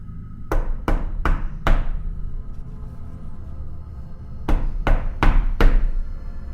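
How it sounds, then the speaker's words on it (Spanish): Heavy door-knocker blows strike a temple door in two sets of four sharp, loud knocks, evenly paced and separated by a pause, over a low steady background. "sonaron fuertes golpes dados con la aldaba en la puerta del templo"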